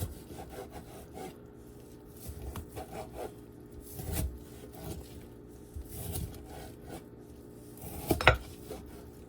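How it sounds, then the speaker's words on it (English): A knife cuts through partially thawed frozen bacon on a board, giving a run of close scraping and knocking strokes with a sharper clack near the end. "I'm just gonna cut it up into very small pieces."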